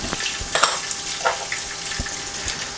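Whole spices, bay leaves, green cardamom, black peppercorns, cumin, cinnamon, black cardamom and cloves, frying in hot oil for a mutton dish, a steady soft sizzle with occasional sharper pops and crackles, close and without talk.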